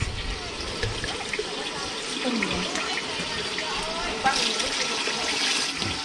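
Water pours and splashes steadily from a blue barrel in a rural home, a continuous gushing trickle with faint voices and background activity underneath.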